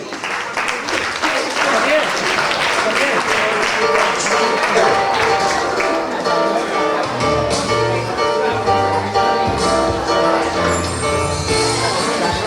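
Audience applause at the Legnago in Moda fashion show for Simone Salvatucci, a steady dense clapping that runs throughout with music and a voice mixed underneath.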